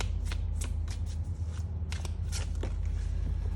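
Tarot cards being drawn and shuffled by hand, with quick papery riffles and soft slides in short bursts, close and fairly quiet against a low steady background hum.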